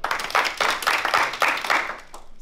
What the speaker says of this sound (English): I love this mechanical applause.